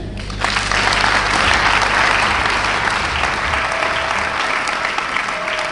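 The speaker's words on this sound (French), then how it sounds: "Acclame Jésus." A wedding congregation applauds during a church nuptial blessing, with steady, dense clapping that starts abruptly and carries on at full strength for several seconds, filling the room.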